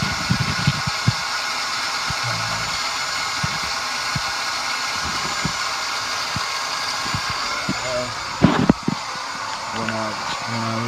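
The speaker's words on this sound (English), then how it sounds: "now when I hook up the battery, it just keeps making this sound." A car with a faulty starter gives off a continuous whirring, buzzing drone after the battery is hooked up, steady and close. Irregular clicks and knocks sound over it, and a brief thump comes near the end.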